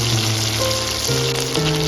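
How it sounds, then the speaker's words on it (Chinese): Chicken legs pan-frying slowly over low heat, a continuous close crackling sizzle of oil beneath steady sustained tones of background music. "翻过来之后，转成小火慢慢煎，把鸡肉煎熟，煎至焦香。"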